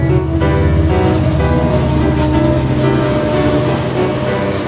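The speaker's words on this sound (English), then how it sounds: "Let's wait for the train here." A train rumbles past close by, a loud, steady, broadband roar of wheels and cars that holds for several seconds without letting up.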